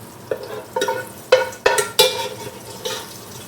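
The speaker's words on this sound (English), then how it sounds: "we're going to scoop them out, let them drain, turn the stove down" Food frying in a Dutch oven over a charcoal campfire is scooped out with a few separate scraping, clinking strokes over a steady low sizzle.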